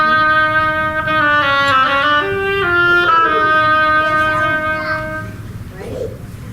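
A solo oboe plays the duck theme from Peter and the Wolf in a concert hall, a reedy melodic line of short phrases with sliding, quacking notes, close and clear over faint room noise.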